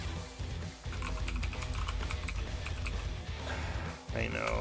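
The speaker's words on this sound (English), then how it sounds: "I know, keyboard is so loud." Loud computer keyboard typing, a rapid run of close clicky keystrokes over a constant backdrop of game music, with a short break near the end.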